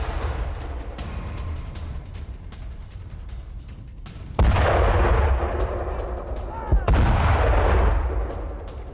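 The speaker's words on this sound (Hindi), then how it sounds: "किस तरह से धमाके किए गए।" Heavy artillery fire and explosions in the Russia-Ukraine war boom at a distance, with a constant rumbling background and two sharp blasts that set off sustained loud roaring.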